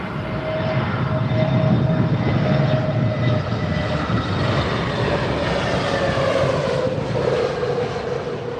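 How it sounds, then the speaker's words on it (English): A British Airways Airbus A380 arriving at London Heathrow roars past on approach to runway 27R, a loud sustained jet rumble with a whining engine tone that swells and slowly shifts as it passes. "Another British Airways A380 new"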